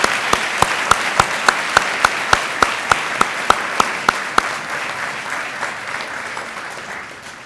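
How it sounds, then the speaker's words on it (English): An audience at an alumni awards event applauds faculty, with a continuous wash of clapping. A regular series of sharp, evenly spaced clicks cuts through the clapping for the first few seconds, and the applause then slowly fades. "So please applaud now"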